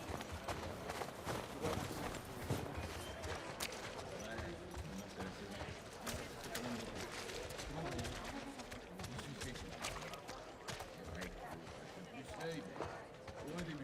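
Rhythmic clip-clop of horse hooves in The Last of Us Part II runs steadily throughout, fairly close, under a dense layer of music and ambient game sounds.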